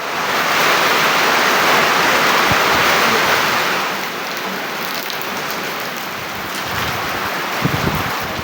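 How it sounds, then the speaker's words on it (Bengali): Heavy monsoon rain pours steadily over a village in Bengal, a dense continuous hiss of drops striking surfaces, loud and close throughout, easing slightly midway and then holding strong. "তারপর হঠাৎ ঝুম বৃষ্টি"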